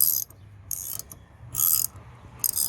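A ratchet wrench tightens bolts on the plastic fuel door of a Ford F-150, with three loud bursts of rapid clicking separated by brief pauses and a short final click run, close up with no talking.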